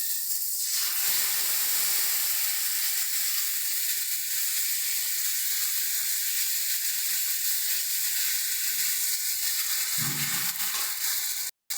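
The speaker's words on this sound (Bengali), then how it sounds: "এবার এর মধ্যে অল্প অল্প পরিমাণে জল দিয়ে দেবো।" Thin water poured gradually into a fish curry's spice paste frying in oil: a loud, dense, continuous sizzle and steamy hiss that runs steadily throughout, then cuts off abruptly at the end.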